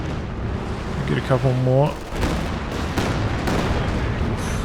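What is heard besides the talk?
Katyusha rocket artillery barrage in Company of Heroes 2 video game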